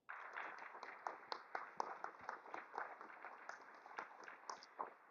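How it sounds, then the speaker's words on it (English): An audience at a hall of fame dinner gives a round of applause for foundation directors, brisk steady clapping with distinct sharp claps throughout, moderately distant. "So please give them a round of applause"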